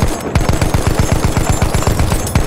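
Rapid automatic gunfire from Battlefield 1 multiplayer conquest, a fast steady string of loud, close punchy shots that runs continuously without a break.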